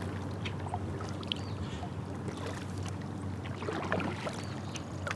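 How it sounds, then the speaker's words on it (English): A boat is paddled along a river, quiet steady water wash with faint drips and splashes from the paddle strokes under a low hum, no talk. "I'm just paddling back to where I started from"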